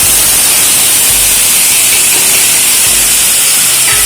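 Loud, continuous sizzling and crackling of whole spices, dried chillies and ginger-cumin paste frying in hot mustard oil, close up, with no voices.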